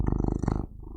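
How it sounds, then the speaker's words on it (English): A pet cat purrs in the video game Little Misfortune, a close, loud, rapid rumbling pulse that runs steadily for a moment and then stops abruptly. "Ooh, that's a good purr."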